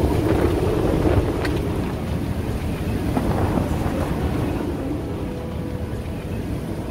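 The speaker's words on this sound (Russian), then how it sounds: "Налетело свыше 60 узлов ветра." Strong storm wind over 60 knots roars steadily on a yacht at sea near Cape Horn, approaching the Falkland Islands, with continuous loud buffeting and rushing water throughout.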